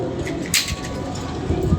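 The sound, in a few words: pigeons cooing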